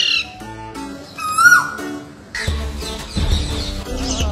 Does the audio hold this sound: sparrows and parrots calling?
yes